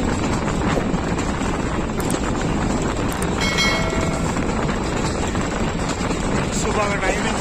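Pakistan Railways' Thall Express passenger train running, recorded from on board as a loud, continuous rumble and rattle of the railcars mixed with strong wind noise, with a voice faintly talking over it.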